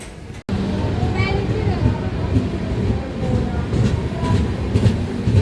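A train rolling through a railway station on the way to Tenkasi, a loud continuous rumble with clattering wheels and a short gap near the start, while people talk over it.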